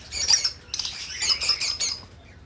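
Pet birds squawk in breeding cages at a cockatiel, lovebird and diamond dove setup, with bursts of harsh, high calls coming close and loud in a few clustered groups and no talk over them.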